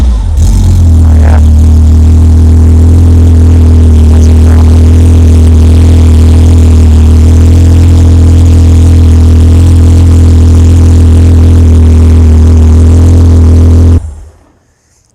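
A 3.2 litre engine built by Black Forest Motorsports at an auto show idles loud and close with a deep steady rumble, giving a couple of brief revs early before cutting off near the end.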